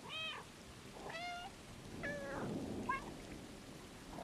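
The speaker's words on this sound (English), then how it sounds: "You do get to make yourself meow." A cat character meows in the video game Stray, with several short, rising mews spaced across the moment over a low background rumble of rain and thunder.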